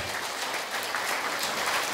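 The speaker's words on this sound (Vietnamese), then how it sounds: "chúng ta dâng Chúa một tràng pháo tay" A church congregation at Sunday worship gives a sustained round of applause, a dense, even wash of many hands clapping throughout without any speech.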